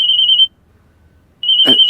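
A steady high electronic ring sounds, stops for about a second, then starts again, with a brief clatter near the end.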